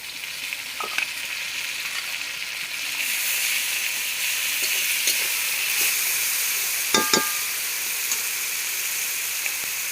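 Garlic and ginger sizzle in hot oil with a steady, close hiss that swells after a few seconds, broken by a couple of sharp spatters near the end.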